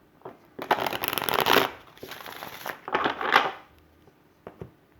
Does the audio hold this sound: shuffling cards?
yes